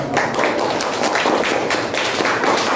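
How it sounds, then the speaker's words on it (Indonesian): A classroom audience applauds after a group presentation, with dense, steady clapping that stays even from start to finish at close range. "Berikan aplaus."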